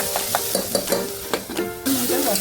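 Dalimbi (field beans) sautéing in oil in a pan, a close sizzle broken by several distinct scrapes and clinks as a spoon stirs, with no talk.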